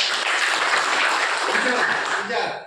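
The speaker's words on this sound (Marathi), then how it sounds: "त्यांच्याकडनं जरा टाळ्या वाजल्या" A small group in a room claps together in a dense, steady burst of applause that fades slightly toward the end.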